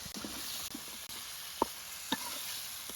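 Flat beans sauté with turmeric, chilli powder and salt in a pan, giving a soft, steady sizzle close by, broken by a few sharp knocks from a spoon against the pan, with no voices.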